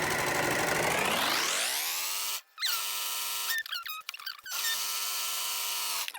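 A sewing machine stitches a project bag, reversing to a line and then sewing forward. Its motor whine climbs in pitch to a steady run, cuts out briefly, stutters through a few short bursts, then settles into a continuous hum.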